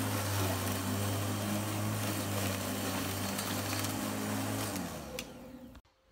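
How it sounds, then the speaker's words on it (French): A lawn mower runs steadily at close range with a constant low droning engine hum, then shuts off abruptly near the end, leaving brief silence. "Christophe est en train de tondre"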